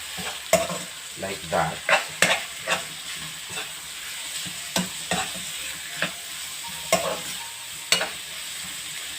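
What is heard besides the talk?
pork sautéing in a pan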